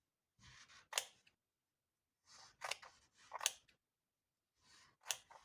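Scissors snip through the thick denim seams of old jeans in four short bursts, each a crisp close cut followed by a brief crunch, with silence in between.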